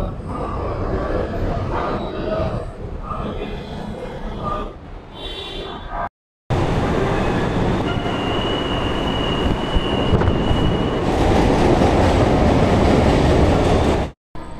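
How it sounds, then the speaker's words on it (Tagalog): An LRT1 light rail train at Doroteo Jose station rumbles in with a loud steady roar and rail noise, a faint squeal over it, close by on the platform. "Waiting ng LRT"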